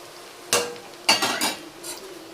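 Okra fry with salt and chilli being stirred in a pan: three distinct scraping strokes of a spoon against the metal with soft sizzling between, close and clear, no voices.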